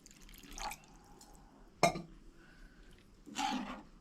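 Water poured into pav bhaji simmering in a pot, with a few short splashy pours and drips spread out against a quiet kitchen background.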